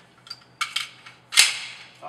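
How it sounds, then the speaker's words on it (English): Kimber 1911 pistol in .45 ACP, a few small metallic clicks and handling knocks followed by one loud, sharp gunshot with a ringing tail. "Here I'm going to shoot 5 rounds apiece, twice, see which one's the most controllable."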